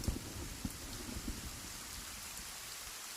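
Rain falls steadily as a soft, faint, even patter, with a few sharper drops early on, and no voices.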